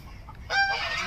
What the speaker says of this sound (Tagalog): Daming gansa. Yung mga gansa.